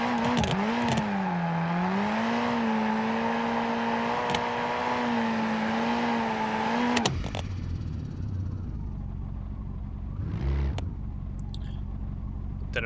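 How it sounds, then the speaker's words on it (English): A boosted car running 30 pounds of boost in BeamNG.Drive holds a loud, sustained engine howl for several seconds during a burnout, then abruptly drops to a low rumble with scattered clatter. "Did a much better burnout that time."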